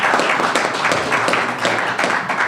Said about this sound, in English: You can clap for Sandy,